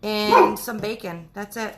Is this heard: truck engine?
no